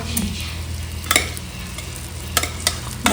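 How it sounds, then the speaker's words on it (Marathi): Cooked rice for prawn biryani being mixed in a large pot, a steady scraping stir with a few sharper clinks of a spoon against the metal, close and alone with no talk. "चला आता डायरेक्ट मिक्स करून घेऊ इथे आपला भात"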